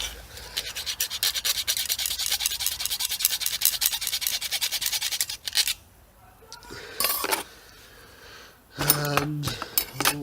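Old Hoover Junior U1040 vacuum cleaner handle remains being cut through, with a steady scraping, rasping saw-like stroke, then a pause and short clinking, scraping bursts.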